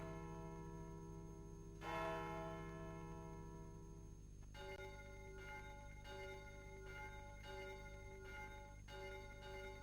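Notre Dame cathedral bells toll in a cartoon film: deep, resonant strikes ring out over a steady low hum, followed by a series of evenly spaced chimes that sustain and overlap.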